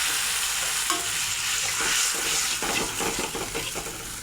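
Spice paste stir-fried in hot oil in a pan with bay leaf, nigella seeds and green chillies, for a Bengali pabda fish curry with brinjal and lentil dumplings. A steady close sizzle runs throughout, with spatula scrapes and stirring in the second half and no talking.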